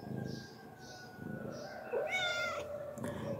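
A cat lets out one clear, rising meow close to the recorder, with a soft background hum, faint movement sounds and quiet speech around it.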